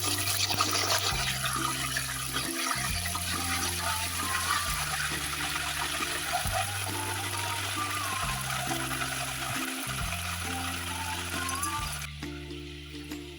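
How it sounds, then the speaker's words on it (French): Haitian plantain slices fry in hot oil with a constant bright sizzle and crackle, under a low repeating machine hum that cuts out briefly twice, fading near the end. "Je vais déposer dans l'huile la deuxième série de bananes"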